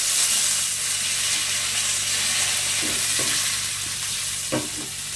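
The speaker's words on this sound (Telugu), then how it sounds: "1 టీ స్పూన్ ఆవాలు, 1 పించ్ ఆఫ్ ఇంగువ, 1 ఎండుమిర్చి, కాస్త కరివేపాకు వేసి వేయించాలి." Mustard seeds, a pinch of asafoetida, a dried red chilli and curry leaves sizzle steadily in hot oil for an Andhra-style sambar tempering, with a few louder scraping stirs near the end and no talking.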